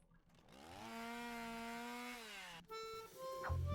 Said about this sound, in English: High-proof alcohol was an excellent fuel substitute for the gasoline chainsaw.